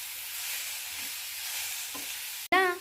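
Grated cabbage for a Telugu cabbage chutney is stirred in a hot pan, giving a steady soft hiss and scrape, then a sharp metallic clunk with a brief ringing tone near the end.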